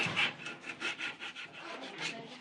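Children saw and sand wood in a workshop set in an old forge, with steady rhythmic rasping strokes repeating roughly every third of a second at close range.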